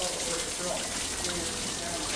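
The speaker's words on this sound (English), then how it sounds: "just pours off all down the steps. And it's, she's really gushing now" Rainwater gushes and pours down outdoor steps during a flash flood, making a steady, loud, broadband rushing wash that continues without pause.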